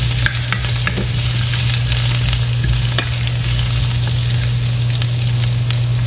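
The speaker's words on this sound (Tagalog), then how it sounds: "Ilalagay din natin ang ating potato. So, haluin natin ng mga 2 minutes." Potatoes frying with whole black pepper and spices for a Maranao-style chicken curry, a loud, dense, continuous sizzle close by, with occasional sharp clinks as they are stirred; no talking.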